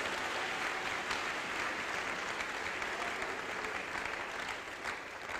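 A church congregation applauds in sustained, even clapping that stays loud and dense throughout, with no talk over it.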